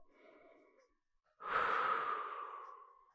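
A single deep breath drawn in and let out during a step fitness barbell workout, close and fairly loud, with a faint breathy sound before it.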